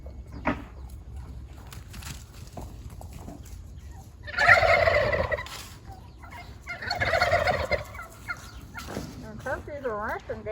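Turkeys gobble in two loud, rattling bursts a few seconds apart, with a softer call near the end and faint background noise between.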